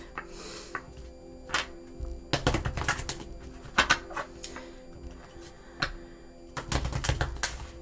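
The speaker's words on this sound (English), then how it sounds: "That's the death card as I cut the deck." A deck of tarot cards being cut and shuffled, giving a string of crisp card snaps and soft taps, irregular and close, separated by short quiet gaps.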